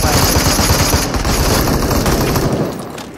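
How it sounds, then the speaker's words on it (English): Rapid automatic gunfire from shooting an enemy in a video game, a loud, dense burst of rattling shots that continues nearly unbroken before tapering off at the end. "Just shot him up in the sky."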